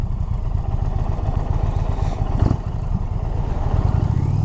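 A motorcycle on the move gives a continuous close engine drone with rumble and wind noise, holding steady throughout.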